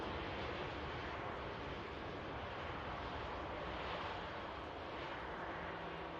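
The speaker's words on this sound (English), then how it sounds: "Just rolling out here, the EasyJet" An EasyJet airliner rolling out at Manchester Airport, a steady broadband jet engine roar that stays loud and even throughout, with no voices.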